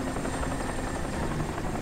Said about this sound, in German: Bitte keinen Hubschrauber.